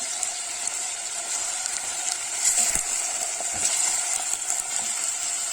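About a hundred grams of minced meat fries in a pan while an eggplant börek filling is made. A bright, continuous sizzle runs throughout, with occasional scraping stir sounds and no talking.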